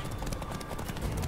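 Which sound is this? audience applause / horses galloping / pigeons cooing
horses galloping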